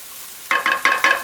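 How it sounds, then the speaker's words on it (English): Vegetables sizzle in a pan over medium-low heat, with a few quick bursts as they are stirred, close and fairly soft, no voices. "They'll start to sizzle a little bit."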